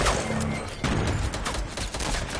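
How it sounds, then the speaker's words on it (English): A grenade goes off in an online shooter game, opening with a sharp burst and followed by dense crackling gunfire and further bangs that keep up a loud, busy battle scene for the rest of the clip. "He threw a grenade."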